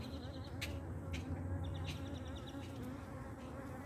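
Honeybees at a backyard hive give off a steady, dense buzz, close and fairly quiet, with a few louder individual bees flying past the microphone.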